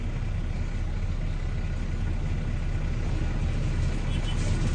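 A dump truck idles steadily during milling work as the driver eases off the brakes without touching the accelerator, producing a continuous low engine rumble heard alone and close, without any talking.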